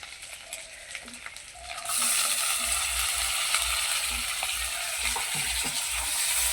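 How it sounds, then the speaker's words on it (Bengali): Chopped tomato drops into well-fried spice paste in a pan, setting off a sudden loud, continuous sizzle that carries on while the mixture is stirred, after a quieter stretch of soft frying and stirring. "মশলাটাকে ভালো করে ভেজে নিয়েছি এখন দিয়ে দেবো একটা টমেটো কুচি"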